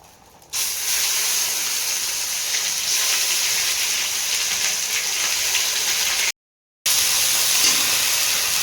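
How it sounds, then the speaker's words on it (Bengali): Ginger and onion paste drops into hot oil for a home-style aloo posto meal, bursting into a loud, continuous close hiss that holds steady, broken once by a brief silent cut. "এতে আদা আর পেঁয়াজ পেস্ট করা দিয়ে দেব তেলের মধ্যে।"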